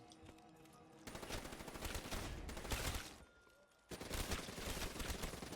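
HVK assault rifle fire in Black Ops 3 Zombies on the Nacht der Untoten map, sustained dense automatic bursts that pause briefly and then resume, loud and continuous with no talking.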